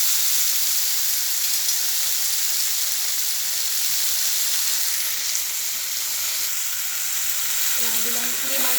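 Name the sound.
tomatoes frying in oil for fish curry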